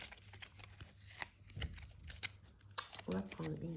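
Gloomy Lenormand cards are shuffled by hand in quick, papery riffles and flicks, close and fairly quiet, while a person talks over part of it.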